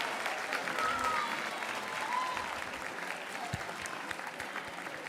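Audience applause for students at a middle school awards night, steady dense clapping filling the room throughout with some crowd noise and faint whistles mixed in.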